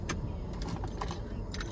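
A car being parked in a parking lot, with a low steady engine rumble under bright jangling keys. A few sharp clinks rise above it close by.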